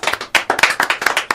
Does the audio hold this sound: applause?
yes